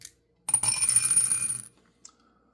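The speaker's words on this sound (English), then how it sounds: "the dice rolls 53" Dice rattle and tumble across a board in an APBA tabletop baseball game, a crisp clattering burst of about a second, close and clear, followed by a faint click in a quiet room.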